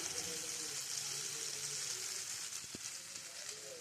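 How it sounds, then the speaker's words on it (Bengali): Gram flour batter droplets for mihidana fry in hot oil, producing a soft, continuous sizzle and hiss close by, steady and fairly quiet throughout. "এভাবেই কিন্তু সব মিহিদানাগুলো ভেজে নিতে হবে"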